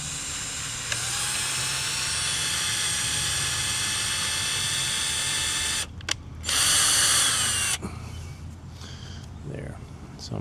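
A screwdriver drives screws into a filament spool winder with a steady, high motor whine that runs for several seconds. It stops, starts again briefly and then cuts out, while a person talks over it.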